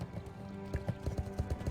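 Rhythmic clip-clop of horse hooves in World of Warcraft, a steady run of quick hoof strikes close by over a low background hum.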